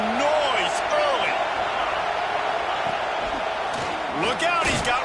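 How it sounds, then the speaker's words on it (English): Stadium crowd in the College Football 26 video game, a constant roaring wash of noise with whoops and swells, while a commentator talks over it. "This crowd bringing the energy and noise early."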